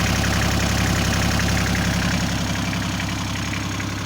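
A 24 hp Kubota GL241 tractor engine idles close by, a loud, steady diesel chug with an even, rapid knock and no voices over it.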